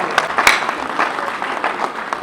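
Audience clapping at a university convocation and award ceremony, a steady patter of many hands with a few sharper individual claps standing out.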